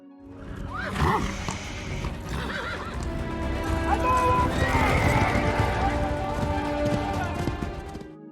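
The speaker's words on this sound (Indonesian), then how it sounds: "Kapten Nelson mulai memimpin serangan dengan menaiki kuda" Horses whinny and hooves clatter in a mounted cavalry charge in a war film, with loud galloping under battle noise and a voice speaking over it.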